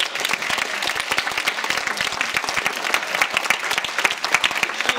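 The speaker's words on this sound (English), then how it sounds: "Let's give another round of applause to all the leadership and the volunteers" A lunchtime awards luncheon crowd of Toastmasters gives a dense, steady round of applause for the leadership and volunteers, loud and continuous throughout with no voices over it.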